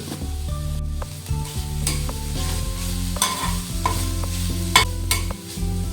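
Gojju frying in a pan with salt, a loud steady sizzle under repeated scraping stirs and sharp utensil clinks, with a low hum running throughout.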